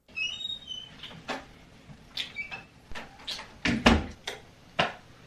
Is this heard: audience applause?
no